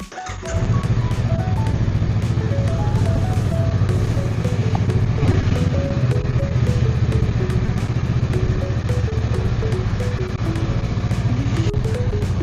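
A Honda Rebel motorcycle with its stock exhaust, ridden at a steady pace: a loud, continuous low engine drone with changing pitch as it shifts and revs, under rushing wind noise from start to finish.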